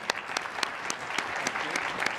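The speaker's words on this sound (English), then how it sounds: "So why don't you join me in applauding our panelists?" An audience at a rural health board panel claps steadily, a dense run of applause with a few louder individual claps standing out, moderately close and without speech.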